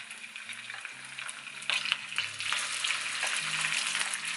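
Cooked plain rice hitting hot oil in a pan sets off a moderate sizzle that grows livelier partway through, with sharp spitting pops scattered over the frying hiss and no talk.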